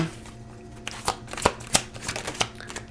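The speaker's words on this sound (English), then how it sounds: "Let's grab one more card for you, Virgo." Tarot cards shuffled by hand during a reading, a run of sharp riffling snaps and soft card slaps in quick irregular bursts, close and clear with no talk.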